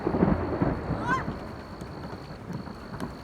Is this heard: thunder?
yes